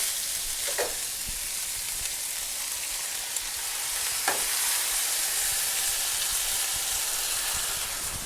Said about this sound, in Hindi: अब हम इसमें सॉस डालेंगे।